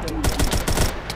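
Rapid gunfire from a gun in the Minecraft video game, about six quick, evenly spaced shots within a second, loud and close over steady game background noise.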